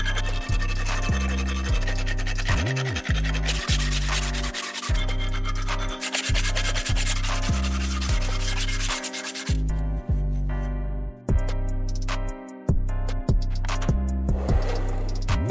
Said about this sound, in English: As for those stubborn stains and rust that won't budge, a good old-fashioned physical polishing does the trick.